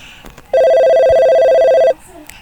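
A phone rings with a single steady electronic tone lasting over a second, loud and close, with quiet background sounds before and after it.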